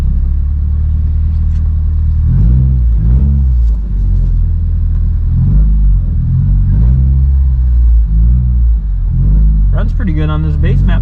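A Subaru WRX with an FA20 engine rumbles close by as it is backed out, its deep idle swelling with a few light revs, and a voice briefly speaks near the end.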